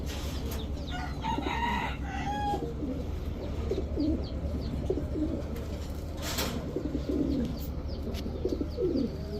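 Black Mushaldom pigeons, a pair offered at a bird market stall, cooing softly amid a busy background of other birds, including crowing roosters and clucking fowl, with steady ambient noise throughout.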